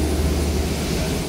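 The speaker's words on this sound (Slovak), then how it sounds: "Boeing 767." Boeing 767 jet airliner engines produce a steady, loud, broadband roar with a deep low rumble that holds constant throughout, with no talking.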